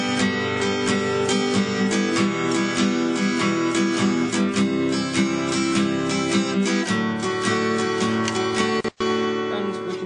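Acoustic guitar strummed in a syncopated pattern, a steady run of rhythmic strokes with a slight delay after the first beat, loud and close, briefly cut near the end.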